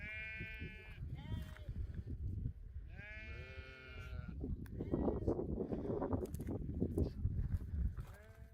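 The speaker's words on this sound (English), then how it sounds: "the sheep have gathered together, creating shade below, and are hiding their heads there" Several sheep bleat in drawn-out, wavering cries in a flock huddled together in the heat, a couple standing out nearby, with someone talking over the flock in the second half.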